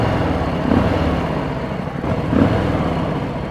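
Harley-Davidson Fat Boy with its exhaust flap closed, idling with a steady low, muffled engine rumble and two slight swells in volume, heard up close and alone.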